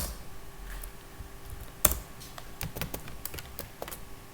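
Code is typed on a computer keyboard in a series of close, crisp key clicks with irregular rhythm, including one sharper keystroke early on, and no voice.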